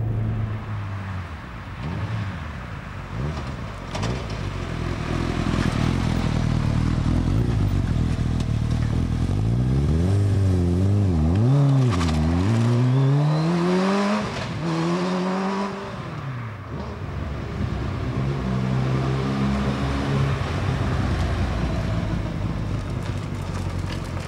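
A high-revving motorcycle-type engine in a small car climbs and drops through several gears, loud and continuous, with sweeping pitch changes midway.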